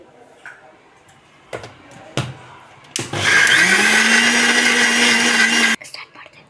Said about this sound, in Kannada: ನುಣ್ಣು ರುಬ್ಕೊಂಬರ್ತೀನಿ